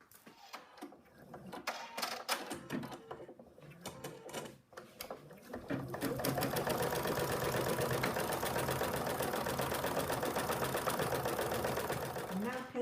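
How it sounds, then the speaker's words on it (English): An embroidery machine stitches a placement line for wadding on an in-the-hoop phone case, starting with scattered ticks under a talking voice, then settling into a loud, steady, fast mechanical hum and rattle. "the first stitch out is going to be the placement line for the wadding"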